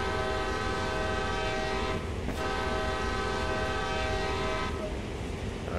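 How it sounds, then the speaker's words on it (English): A locomotive horn in the Train Sim World video game blares loud and sustained, briefly dipping twice, over a steady engine drone. "Sound the horn twice."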